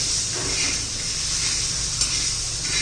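Chopped coriander sautéing in hot oil in a pan, a steady close sizzle with occasional light stirring scrapes, no voices.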